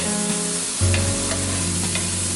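Butter and garlic sizzle steadily in a pan for a Cajun fish and grits dish, a continuous close frying hiss that swells as more goes in partway through, with faint stirring and no talking.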